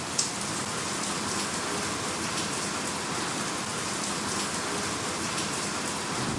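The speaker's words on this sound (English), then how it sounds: "I love the sound of rain." Steady rain falling in Kathmandu, Nepal, a dense continuous hiss of drops on surfaces, close and even throughout with no voices.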